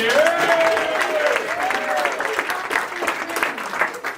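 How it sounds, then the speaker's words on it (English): An audience at a business networking event applauds, a dense, steady wash of clapping from many hands that gradually thins out, with a voice speaking faintly over it near the start. "Give us an applause for that."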